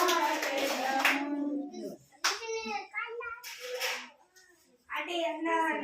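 Children clap their hands while singing a Telugu worship song at a children's ministry gathering, with sharp claps cutting through bright sung phrases and short pauses between lines.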